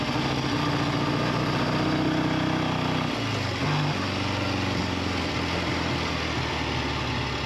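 A Triumph T90 motorcycle engine idles with a steady, loud, close putter that stumbles and drops lower partway through as it falters toward dying, then keeps running roughly.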